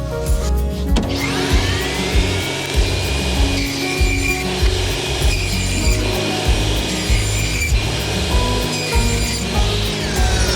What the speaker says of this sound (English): those two strips that we just cut off of that 1/4 inch 4x8 is going to be cut into strips that are 20 5/8 inches long